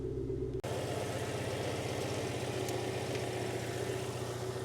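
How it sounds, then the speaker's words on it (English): The engine of an Alfa Romeo GTV, long neglected and under repair for a non-charging alternator, runs at a steady idle with a brief click or cut, then keeps humming evenly and close. "Got a nice spark then and the engine tone changed."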